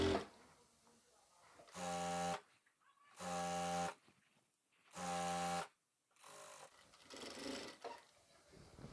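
A sewing machine stitches a kameez side seam in three short, loud, even bursts, then a softer, shorter run, with quiet pauses between as the fabric is adjusted.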